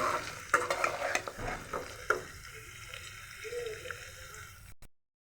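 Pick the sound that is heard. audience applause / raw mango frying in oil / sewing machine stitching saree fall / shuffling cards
raw mango frying in oil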